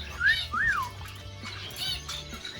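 Bright rising-and-falling whistled notes from a small society finch, two clear phrases close by, with soft background noise.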